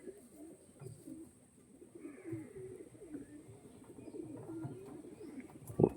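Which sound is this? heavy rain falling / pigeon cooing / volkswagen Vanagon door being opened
pigeon cooing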